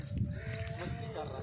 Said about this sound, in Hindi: छोटा सा बकरा है, फुल मस्ती में आज